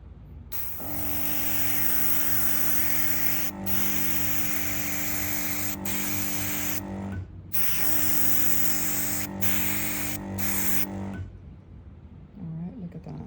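A Diebold airbrush sprays dye onto a rug, blue over a yellow stain. It gives a loud, steady hiss in two long bursts broken by short pauses, over a low electrical hum from the compressor, and fades out at the end.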